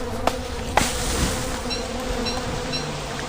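Flies buzz steadily around a pig head in the Don't Starve video game, a continuous droning hum with a few sharp click-like transients early on and no talking.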